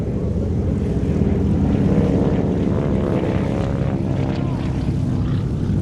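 A wing-walking biplane roars past nearby at an airshow, a loud continuous engine drone with a wavering pitch and wind noise, while a voice talks over it.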